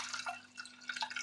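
Water draining off soaked beans during preparation of three-bean koose, a soft irregular trickle and dripping, close and fairly quiet, with no talking.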